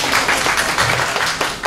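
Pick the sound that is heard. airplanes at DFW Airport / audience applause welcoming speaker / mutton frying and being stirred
audience applause welcoming speaker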